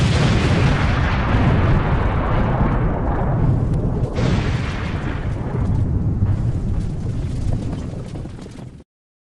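A huge explosion from Egyptian military weapon tests roars loudly and continuously, a dense rumbling blast with a second surge midway, then cuts off near the end.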